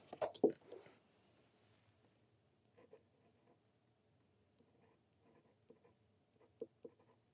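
A pen lays down ink on paper in close, quiet scratches, starting with a louder burst of strokes and followed by faint, scattered taps and scribbles.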